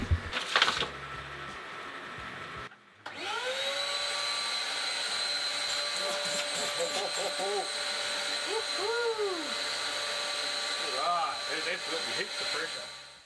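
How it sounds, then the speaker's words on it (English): A vacuum cleaner extracting dust from a CNC machine drones steadily after a brief pause, its whine holding for about ten seconds with faint squeaks and a person speaking beneath it. "you can either have the vacuum cleaner on that and it's vacuuming up the dust as it goes"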